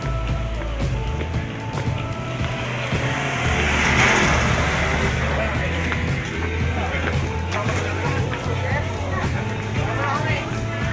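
Cars roll and rev past at a busy fair over a few seconds, engine hum and tyre noise blended with crowd noise, while a person talks over it.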